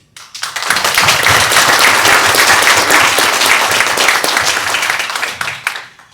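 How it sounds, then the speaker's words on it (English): Sustained applause from an audience at a dedication night event honoring a father, steady clapping swelling quickly and holding for several seconds before tapering off. "So I'd just like to give a round of applause to my father."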